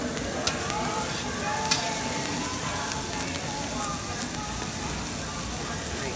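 Shrimp and meat sizzle on a hibachi grill, a steady dense frying hiss running the whole time with faint scraping and clinks, close and even in level.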